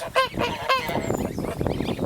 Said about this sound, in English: that's a city goose